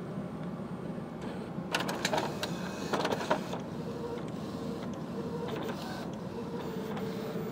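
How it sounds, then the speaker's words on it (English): An inkjet printer cleared of clogs runs a nozzle check, giving a steady mechanical whir with bursts of clicking and creaking carriage movement, close and alone. "Let's go ahead and do a nozzle check and see if we're okay."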